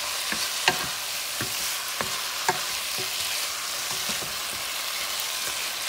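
Sancocho base and beef sizzle steadily in a hot pot, a constant frying hiss broken by occasional scraping knocks of stirring, close and without talk.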